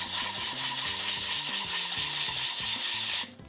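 Sandpaper works over puttied areas of a surface in small circles ahead of priming, giving a continuous close, loud abrasive rubbing with a rhythmic swirl that stops abruptly at the end.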